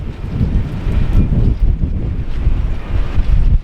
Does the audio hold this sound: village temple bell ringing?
no